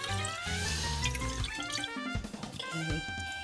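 Medium grain rice being rinsed in water, with steady running and splashing water and small drips close by, continuous throughout without any talk.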